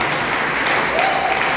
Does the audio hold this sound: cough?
no